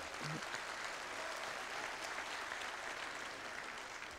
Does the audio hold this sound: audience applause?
yes